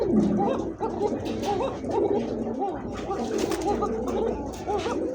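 A male pigeon at a Bangladeshi pigeon seller's lofts coos in repeated rolling calls close by, with other birds calling around it in a busy, lively coop.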